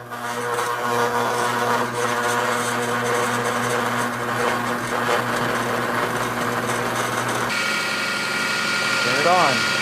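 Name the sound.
food processor chopping green pepper, onion and mushrooms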